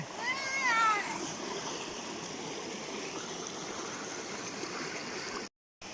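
A forest stream called Khlong Kai Baek on Ko Chang flows steadily with a broadband watery rush throughout, with a brief high chirping or meow-like cry near the start and a short dropout near the end.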